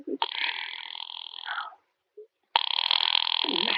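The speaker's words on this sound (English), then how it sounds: "Ringing the police department." An old-style telephone rings in two long, loud electric bursts separated by a short silence, close by.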